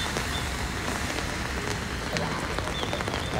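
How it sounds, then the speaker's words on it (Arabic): Steady rain falling in Japan, a dense, even patter of drops on surfaces at moderate loudness, continuous throughout with no talk. "الحمد لله على نعمه المطر"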